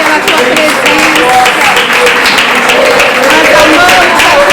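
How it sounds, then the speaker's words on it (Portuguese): A church congregation claps steadily and densely, the loud, even patter filling the whole stretch, with voices and worship sound mixed in beneath it. "Aplauda o Senhor"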